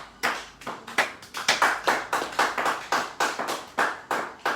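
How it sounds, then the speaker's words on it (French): A church congregation applauds in praise during a service: steady rhythmic clapping from many hands, close and fairly loud, pulsing in regular beats throughout with no talking. "Nous acclamons le Seigneur."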